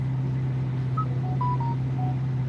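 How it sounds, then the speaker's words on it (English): A few short electronic tones sound in uneven succession over a steady low hum, fairly faint. "Beep, beep, beep, beep."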